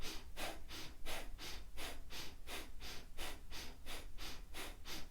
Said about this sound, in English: that's all I'm doing is sniffing. I'm sniffing in,